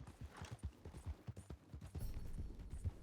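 Horse hooves clip-clop in Red Dead Redemption 2, a steady rhythmic trot of repeated close, thudding beats running the full length.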